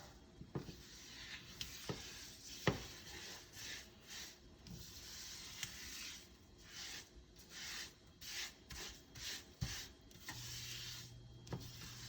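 Sooji (semolina) is stirred in hot oil, a dry scraping and rubbing of spoon against pan that comes in irregular strokes with occasional sharp taps, close and fairly quiet.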